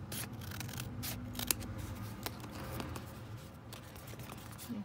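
Scissors make quiet, close snips while handmade washi tape is trimmed, a few crisp cuts scattered over soft handling rustle at low volume.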